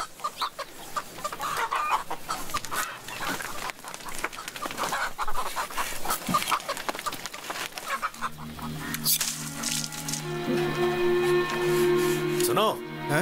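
A hen clucking in a household setting, short repeated clucks near the end over a busy, noisy background with people talking.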